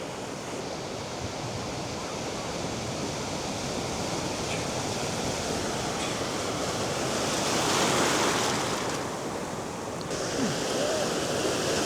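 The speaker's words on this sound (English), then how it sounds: "I'm trying to time it so the waves come in at the right time." Ocean surf rolls steadily onto a beach, a continuous loud wash of breaking waves that swells to a fuller crash near the middle before easing back.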